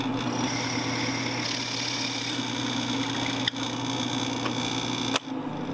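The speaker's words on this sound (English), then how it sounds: "here's the drilling of the tuner holes" A drill boring tuner holes into a wooden guitar headstock gives a steady, close whine that runs the whole time, broken by two brief clicks near the end.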